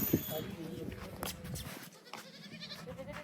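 A male goat bleats close by in a village while people talk over it, with rustling movement in the background.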